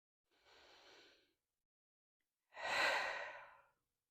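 Two slow, audible breaths during a yoga session: a softer exhale-like breath, a pause of quiet, then a longer, louder, breathy sigh of release, close and alone without speech.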